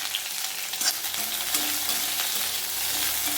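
Chopped okra stir-fried in a pan for a South Indian poriyal, with mustard seed tempering, sizzles steadily while a utensil scrapes and stirs, close and moderately loud.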